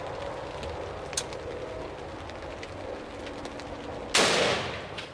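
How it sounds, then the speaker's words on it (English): A .300 Winchester Magnum fired from a Valcourt Petra rifle at bulletproof tempered safety glass outdoors, a single sharp crack late in an otherwise quiet stretch, tailing off in a decaying rumble. "Let's go with the round that is like 4 times more powerful. The 300 Winchester Magnum out of this Valcourt Petra."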